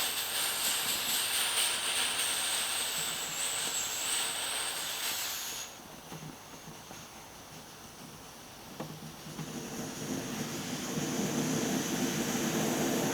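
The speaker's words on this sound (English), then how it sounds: "now this Shellite burner is a very hot stove, it burns very hot" A Shellite camping burner stove roars with a steady, close hiss that holds throughout, easing slightly in the middle before building again, with faint handling clatter around it.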